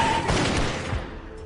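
A burst of gunfire crackles and booms briefly, loud and then fading out.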